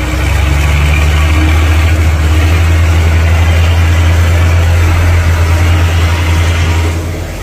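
A Deutz-Fahr 120 tractor engine runs loudly and steadily nearby on a farm field, a deep constant rumble with a low throb that fades slightly at the end.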